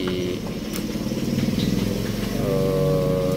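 A carburetted Honda Beat motorcycle's electric starter is tested, the engine cranking with a rapid pulsing churn, then settling into a steady close, loud running tone.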